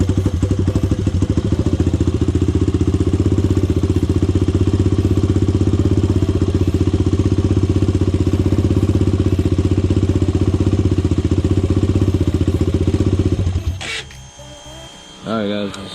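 A Honda 400EX ATV engine runs steadily just after its first start, a loud, rough, unhappy-sounding idle with a throbbing low drone that continues for most of the clip, then cuts out near the end, leaving some clatter.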